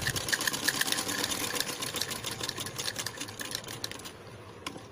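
A sewing machine runs basting stitches on a blouse in a fast, continuous mechanical chatter that eases off near the end.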